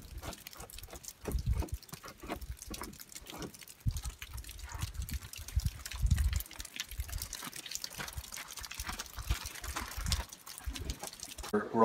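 A camp shower on the Everest Base Camp trek in Nepal runs and patters steadily for several seconds, splashing in uneven bursts close by, with a faint voice briefly in the background.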